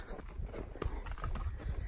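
A horse walking while ridden out alone on a hack, its hooves making soft, steady clip-clop footfalls, faint and fairly distant.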